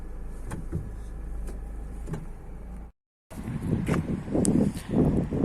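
Electric windows on a Renault Clio 4 diesel hatchback closing by themselves, a steady motor whine running for a few seconds, a brief gap, then louder, busier motor and body noise close by.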